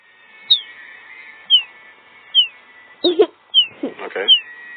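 Repeated short descending whistled bird chirps from a Roblox sound effect, evenly spaced, with a low murmur of voices joining midway.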